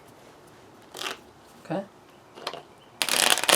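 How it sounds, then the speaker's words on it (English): Playing cards from the Kingdom Death Monster board game deck being shuffled, several brief riffling rustles at close range building to a longer, busier burst of shuffling, with a single spoken word partway through. "Let's do a good shuffle"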